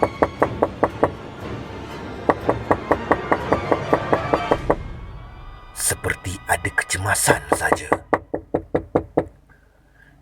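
Rapid, repeated knocking on a house door, sharp bursts of evenly spaced raps in several volleys, the later ones louder and more percussive, with a voice speaking briefly between them.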